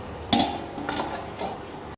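A metal lid set onto a cooking pot on an induction cooker, one sharp clink followed by a couple of lighter clinks and rattles as it settles, close and alone.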